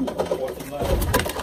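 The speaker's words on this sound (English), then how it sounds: "I have Gallo pigeons here." Pigeons of the Gallo breed cooing inside a racing loft, soft low throaty coos mixed with wing rustles close by, with people talking over them.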